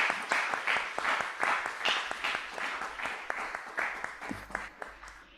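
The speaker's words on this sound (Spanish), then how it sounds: "Le aplaudimos desde acá también." An audience at a music interpretation conference applauds steadily, a dense run of claps that holds for several seconds and then tapers off, close and fairly loud.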